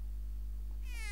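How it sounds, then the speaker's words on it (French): A short single meow from a cat in the SNES video game Legend of the Mystical Ninja rises at the very end, after a steady electronic hum. "Oh, le mignon petit chat."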